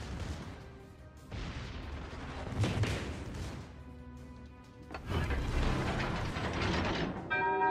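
Secondary guns on warships pound away at the battleship Yamato in World of Warships: Legends, a dense barrage of overlapping booms and mechanical clatter building in two loud waves over steady battle noise.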